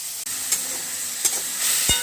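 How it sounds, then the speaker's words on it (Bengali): Spinach frying in a pan gives a steady soft sizzle and hiss, broken by a few sharp clicks and scrapes from stirring. "পালং শাক ভাজা"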